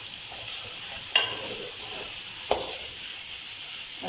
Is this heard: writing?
no